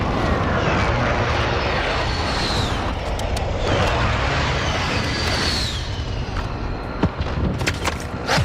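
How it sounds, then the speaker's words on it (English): Loud aircraft roar with rising whooshing passes from an airstrike in Call of Duty: Modern Warfare, a continuous engine drone over gameplay noise with a few sharp impacts near the end. "Precision airstrike inbound."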